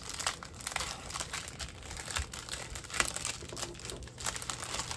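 Plastic packaging of a diamond painting kit being opened, a steady run of loud crinkling and crumpling with scattered sharper rustles and tearing, close up and continuous, with no talking.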